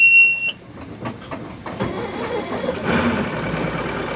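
A Wellcraft boat's outboard engine starts at a boat ramp, a brief high whine giving way to a rough, steady running rumble that builds slightly, with no talking.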